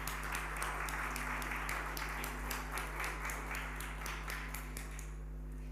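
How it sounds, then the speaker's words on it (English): Sustained audience applause at a Free State sports awards ceremony in 2023, dense steady clapping from a large crowd filling the room, tapering slightly at the end over a constant low hum. "can we please give our MEC a big round of applause"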